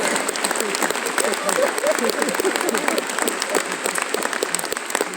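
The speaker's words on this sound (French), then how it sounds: "Et on peut les applaudir, mesdames et messieurs, nos participants ce soir encore une fois." Crowd at a Messmer hypnosis show in the Zénith de Rouen applauds the participants, with dense clapping and scattered sharp claps and voices and cheers mixed in throughout.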